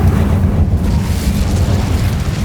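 An Incendio fire spell cast in Hogwarts Legacy bursts out as a loud, dense, roaring whoosh of flame that holds steady and heavy throughout the short moment, with no talk over it.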